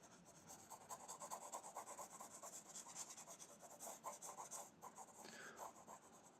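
Pencil strokes rub and rasp steadily across paper while reference lines for a lion's face are sketched ahead of a whittling project, faint and close with a repeating scratchy rhythm.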